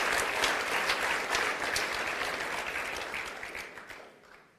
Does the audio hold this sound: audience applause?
yes